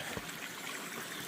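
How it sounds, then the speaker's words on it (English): A small babbling brook runs over granite among misty hills along the Camino between Sarria and Portomarín, a soft, steady trickle and rush heard faintly from close by. "Nice little babbling brook."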